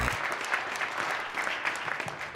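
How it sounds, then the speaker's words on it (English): Audience applause at a startup pitch night investment summit in Calgary, a steady wash of clapping hands that fills the whole stretch, fairly close and unbroken, with no voices over it. "Let's hear a round of applause for that."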